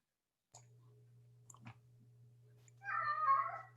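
A lonely pet cat meows once over a steady low electrical hum, the harmonic call arriving near the end after a few faint clicks and taps.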